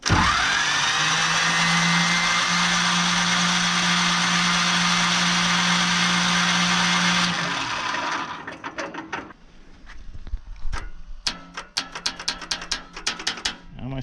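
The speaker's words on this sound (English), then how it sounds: "My starter's overheated." Starter motor on a Belarus 250AS tractor cranks the engine with its compression release pulled, a loud steady whir that runs for about eight seconds, then stops and gives way to scattered clicks and ticks.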